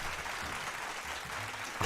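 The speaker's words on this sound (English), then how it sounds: "Round of applause for that one." Steady applause from a crowd, dense continuous clapping throughout with no voices on top.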